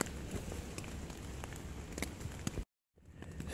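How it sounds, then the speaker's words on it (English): Steady rain patters and hisses on a surface at a lakeside campsite, with occasional louder drops, then cuts to silence briefly before resuming faintly. "It's still raining."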